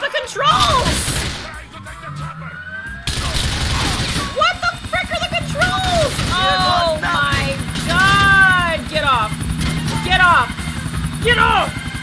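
Helicopter in Grand Theft Auto IV whirs steadily under a player's excited talking, mixed with game sound effects, bursts of impacts and chirpy tones throughout.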